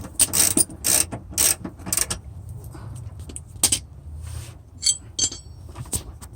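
Ratchet tightening bracket bolts for running boards on a 2017 Ram 1500 Crew Cab truck, several quick bursts of clicking pawl strokes with metallic clinks between them, close and fairly loud, no talk.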